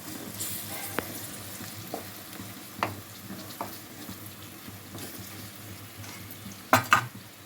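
Thinly sliced tomato pieces fry in oil for an egg masala curry, a soft steady sizzle punctuated by a few distinct clinks and scrapes of a spoon against the pan.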